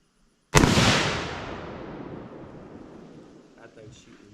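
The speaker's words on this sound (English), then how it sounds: "That thing's shooting way high, Brandon." A single loud, close gunshot from a firearm being sighted in cracks sharply, then its long echo decays over several seconds, with faint movement near the end.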